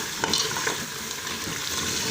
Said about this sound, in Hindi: आपने इनको 7 चम्मच मुसलसल चलाते रहना है और अच्छी तरह से 5 से 7 मिनट भुनाई करनी है इसकी।